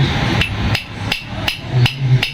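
A hammer striking during repair of a broken electric fan: six sharp, evenly spaced metallic blows about every third of a second, close and loud, with no talk.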